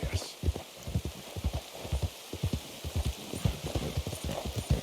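Horse hooves clip-clop in a steady walking rhythm in the Red Dead Redemption 2 game, quiet and close, with a soft rain-like hiss behind the beats.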